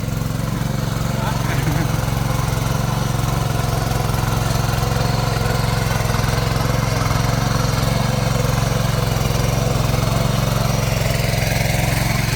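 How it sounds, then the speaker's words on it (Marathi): A tractor engine drones steadily and loudly nearby while puddling a muddy field on a Konkan farm, a constant low rumble that fills the whole stretch, with a voice speaking over it. "हे पहा इथे ट्रॅक्टरच्या साहाय्याने इकडे शेती केली जाते आहे"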